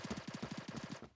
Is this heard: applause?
no